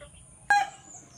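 A single short hen cluck rises abruptly over quiet background noise, then fades, with no talking.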